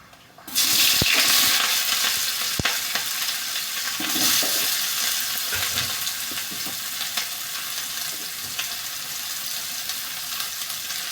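Onion going into hot oil with mustard seeds, a loud sudden sizzle that settles into steady, dense frying with occasional stirring scrapes, close by and with no voices.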